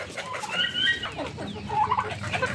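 Poultry kept on a rooftop cluck and chatter in short, overlapping bursts at moderate distance, with a rooster-like call among them.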